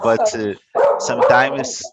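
A dog barks and yips nearby in a home, in short bursts with a brief pause between them, mixed in with a person talking over it.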